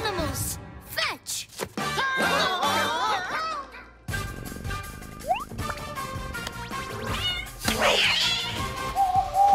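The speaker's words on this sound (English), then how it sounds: "One kitty cat and one little Tweety bird." A cartoon cat meows repeatedly in a children's animated episode, its exaggerated, pitch-sliding cries mixed with music and other character sounds throughout.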